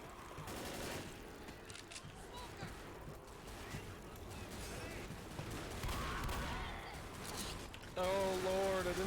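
Rapid bursts of gunfire in Left 4 Dead during the Crash Site finale fight, dense and continuous through the clip, with louder shots near the end.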